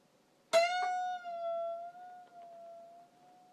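A single sustained electric guitar note, plucked once, then bent slightly down and back up in pitch, ringing alone and slowly fading.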